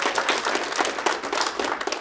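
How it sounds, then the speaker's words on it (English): Round of applause from a graduation-style audience honoring an alumnus, a dense steady wash of clapping hands at moderate loudness, lasting throughout without pause. "I think we need a round of applause there."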